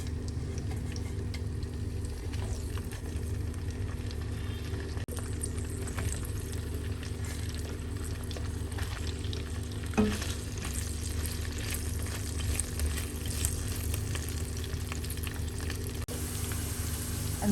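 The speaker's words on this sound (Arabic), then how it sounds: "بداية رح نحط البامية نقليها، نعملها تقلية مظبوطة" Okra frying in about half a cup of vegetable oil in a pan on the stove, a steady close sizzle and crackle that continues throughout with no one talking.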